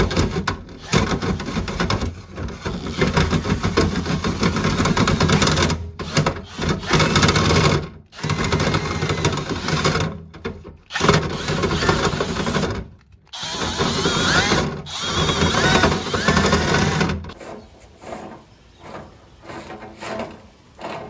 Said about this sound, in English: With the drill still in the forward motion, I'm going to pull the drill towards me